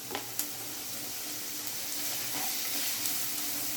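Chopped onion and garlic fry in a pan with a steady, fairly quiet sizzle and a few soft stirring taps near the start, and no talking.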